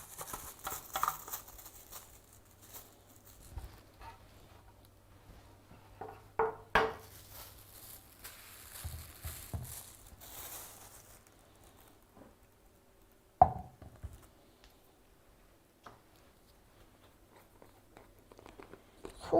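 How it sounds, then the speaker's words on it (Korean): Carrots being julienned with a kitchen knife on a cutting board, quiet scattered taps and crisp cuts in irregular bursts with long near-silent gaps, close and faint. "이렇게 당근을 채 썰어 주시고"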